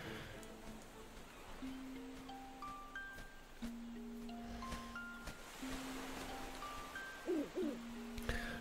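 Owl hooting in the video game Zelda: Link's Awakening, a chiptune-style synthesized hoot over game music with melodic tones, followed by a brief burst of game sound effects.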